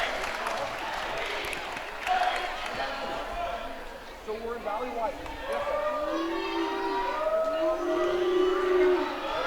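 Crowd at a girls' varsity high school basketball game, Anacortes against Bellingham, cheers and claps in a gym. Raised voices and whoops swell toward the end, with some talk mixed in.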